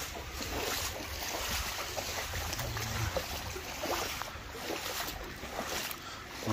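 Someone wades through knee-deep floodwater, about 40 cm deep, in a flooded street of Dzhemete, Anapa, producing a continuous, fairly quiet sloshing and rushing of water that stays even throughout with no talking.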